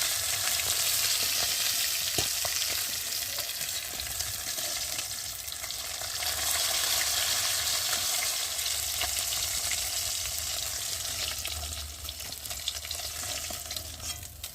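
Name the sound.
fish frying in oil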